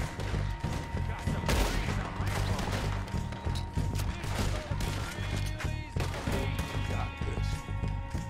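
Rapid gunfire crackles in Red Dead Redemption 2, a dense fusillade of repeated shots and impacts over game music, with someone talking at moments.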